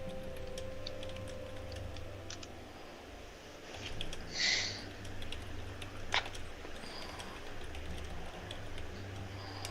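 Faint, irregular tapping of keys on a computer keyboard is heard over a low background hum, with a brief higher tone partway through.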